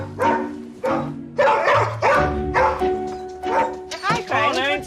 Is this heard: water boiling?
no